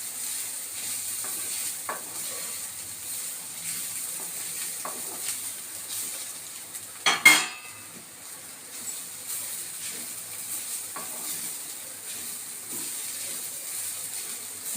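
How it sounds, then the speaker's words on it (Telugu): Carrot fry with chili powder cooks in a pan, giving a soft continuous sizzle and occasional light stirring scrapes, with one sharp clatter of the utensil partway through. "కారం వేసుకుని బాగా కలపాలి."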